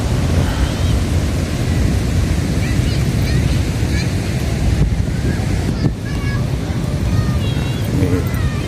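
Steady surf washes continuously onto a beach at Pangandaran, Indonesia, with wind rumbling across the microphone and faint voices scattered in the background.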